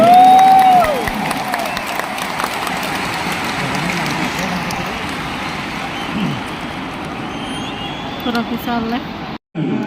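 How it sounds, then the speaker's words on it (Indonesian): A large crowd at an Anies Baswedan campaign rally at JIS stadium in Jakarta roars and applauds for Gus Muhaimin, a loud, sustained wash of noise from a huge open-air audience, with a brief dropout near the end. "tepuk tangan dulu yang meriah untuk Gus Muhaimin."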